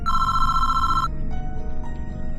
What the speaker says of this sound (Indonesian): tiba-tiba HP-nya berbunyi